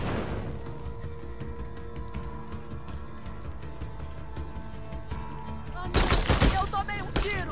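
Gunfire in the video game Days Gone, a burst of several sharp shots near the end after a stretch of quieter in-game sound, with voices talking over it.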